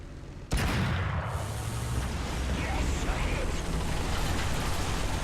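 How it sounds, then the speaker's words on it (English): A loud, sustained roar of high-explosive cannon fire aimed at barrage balloons in War Thunder, starting abruptly and continuing as a dense, steady rumble without letup. "Let's try to shoot down one of these barrage balloons using high explosive instead"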